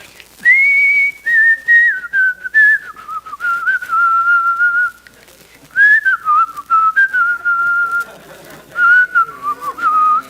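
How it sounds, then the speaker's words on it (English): A single person whistles a slow, wavering melody during a Sunday church service, close and clear, in phrases broken by short pauses and soft room noise. "Let's see if I can whistle this morning."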